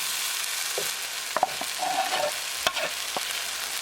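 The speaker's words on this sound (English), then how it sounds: "Mix it well. So keep mixing." An onion and tomato sabzi seasoned with garam masala and other spices is stirred in a pan, giving a soft sizzle with a few sharp spoon clicks and scrapes at irregular moments.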